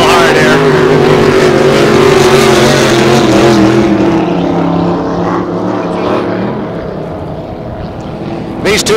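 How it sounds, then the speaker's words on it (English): Vintage race boats run on a lake at a Solar Cup heat in Moses Lake, a loud sustained engine drone with shifting pitch, nearby and steady, then easing off, with talk under it. "These two boats have been tied together since they got out on the water."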